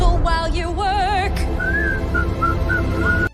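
A person whistles a melody up close, the warbling tune running clearly and steadily for several seconds, loud and unaccompanied by any talk.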